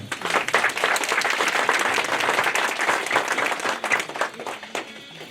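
Sustained applause from a crowd at a wedding ceremony, steady and dense clapping throughout, loud and close, with a slight dip and swell near the end.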